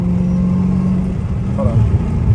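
Catless Dodge Hellcat Redeye idling or cruising at night with its valve mufflers closed, a loud steady engine drone with a faint supercharger whine on top, close by, and a voice briefly talking.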